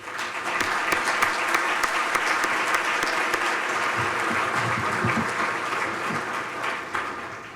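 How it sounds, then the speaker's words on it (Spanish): An audience at a business luncheon in the Dominican Republic applauds to welcome the economy minister, sustained lively clapping with sharp individual claps standing out, slowly tapering toward the end. "Les invito a que recibamos con un fuerte aplauso a Juan Ariel."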